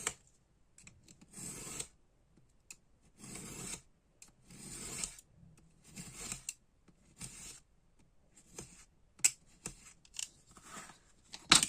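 Scissors snip through cardboard in short rasping bursts, several separate cuts with brief pauses between them, close and fairly quiet with no talking, while a desk organizer is being made.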